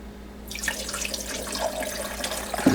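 Water poured into the top-rear reservoir of a coffee machine used to make tea, a close steady splashing trickle starting after a brief pause and continuing alone.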